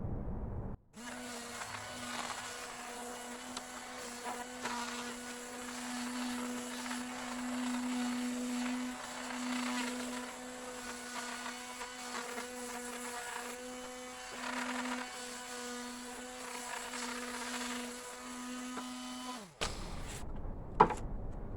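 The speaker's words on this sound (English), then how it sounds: "we'll go ahead and sand it so it's not quite so rough" A power sander works a freshly cut wooden channel in a garage workshop, running as a steady, loud, continuous whine for about twenty seconds before stopping, with no talking.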